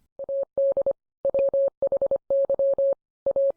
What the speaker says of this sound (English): the audio is fully Morse code